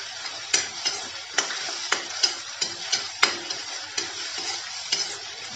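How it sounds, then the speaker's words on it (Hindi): Cashew pieces frying with raw turmeric in a pan give a steady hiss and sizzle, broken by regular scraping stirs of a spoon, close and alone without talk. "तो भी अच्छे से फ्राई कर लेते हैं इसी के साथ।"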